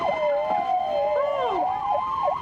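Emergency vehicle siren wailing and sweeping up and down, loud and steady, as it comes down a city block and stops in front of an apartment building, heard from indoors through open windows.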